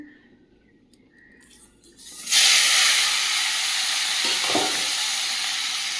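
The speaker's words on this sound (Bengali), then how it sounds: "তেলটাও গরম হয়ে গেছে, দিয়ে দেব কড়াইতে" Koi fish rubbed with salt and turmeric drop into hot oil in a wok and burst into a loud, sustained sizzle that stays steady to the end after a quiet opening.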